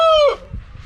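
A fighting rooster gives one short, harmonic, strained call up close, which cuts off abruptly and leaves faint background rustle.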